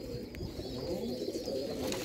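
Sialkoti mouse pigeons coo softly on a rooftop in Sialkot, a faint, low, steady murmur of cooing throughout a short moment.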